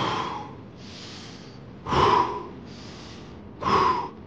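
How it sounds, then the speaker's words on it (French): Deep, forceful breaths from Wim Hof method hyperventilation breathing: long hissing inhales and exhales repeat in a steady cycle, two of them louder and sharper, heard close with no talking. "je viens de finir la méthode Wim Hof, donc la méthode de respiration"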